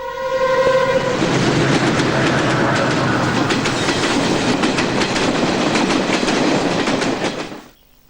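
A train passes on a railway track, starting with a horn blast and then a loud, steady rumble of wagons and rhythmic clickety-clack of wheels close by, which fades out sharply near the end.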